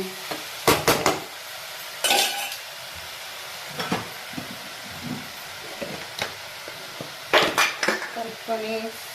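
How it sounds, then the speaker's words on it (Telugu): A spoon stirs chopped ivy gourd (dondakaya) in a pan for curry, giving sharp metallic clinks and scrapes in short bursts, close and fairly loud, with soft frying noise between the strokes. "దొండకాయలు వేసుకొని బాగా కలుపుకోవాలండి"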